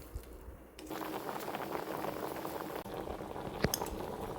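Potatoes boil in a pot of salted water on a stove, giving a steady, close bubbling and rolling simmer that continues throughout with a brief louder splash near the end.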